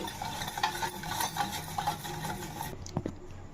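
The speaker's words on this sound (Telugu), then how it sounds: "పంచదార కరిగేంత వరకు ఇలా విస్కరతో కలిపి" Sugar and water whisked together with a whisk in a pot for a vanilla cake syrup, a continuous stirring and scraping with light metallic clinks, close and steady, ending with a couple of sharper taps.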